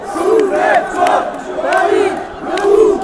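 A protest crowd surges forward at Place de la République during a Nuit debout night, massed voices chanting and shouting loudly in rising, repeated waves, close and continuous.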